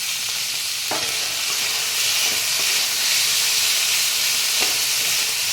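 Steady loud sizzling of vegetables frying in a wok for vegetable fried rice, with a few sharp clanks of a spatula scraping the pan.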